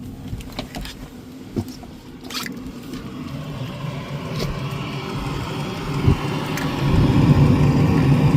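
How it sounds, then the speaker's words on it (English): A steady low mechanical hum and whir from a vehicle heater running, with occasional small clicks and ticks, growing slightly louder toward the end. "we actually got the auxiliary heater to work today"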